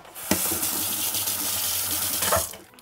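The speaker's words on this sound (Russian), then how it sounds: "Я под краном с горячей водой быстро-быстро-быстро обмываю." Hot water runs from a kitchen tap while a spoon is rinsed under it, a close, continuous splashing stream that starts abruptly and tapers off near the end.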